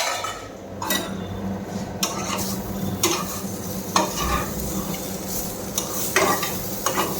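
Bitter gourd fries in a pan with a constant soft sizzle, while a utensil stirs and scrapes it roughly once a second, with occasional sharp metallic clinks against the pan.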